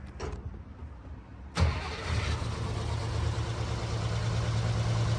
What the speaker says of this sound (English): Even when it's really cold, it doesn't take a very long to fire it up.